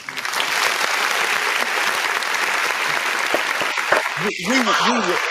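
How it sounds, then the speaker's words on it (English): An audience gives a round of applause, dense clapping throughout, with a voice calling out near the end. "Round of applause, real quick."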